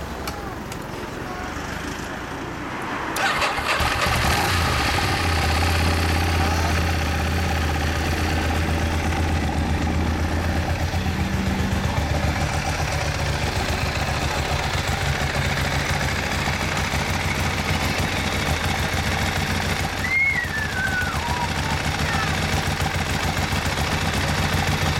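A 1994 Harley-Davidson Dyna Glide motorcycle engine starts up after a few quiet seconds, then idles steadily and loudly nearby with a low, throbbing rumble that continues to the end.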